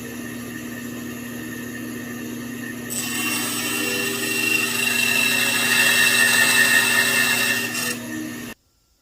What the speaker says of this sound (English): So now we do it with a chisel and hammer because somebody lost the jigsaw.